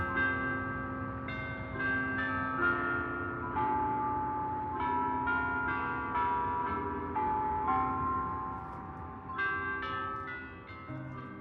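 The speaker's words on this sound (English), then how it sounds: "After chiming the hour, the bells play the hymn Salve Regina to the surrounding neighborhood" Church bells ring out the hymn Salve Regina after chiming the hour, a slow melodic sequence of resonant struck tones with long overlapping decays, moderately distant and carrying across the neighborhood, no voices.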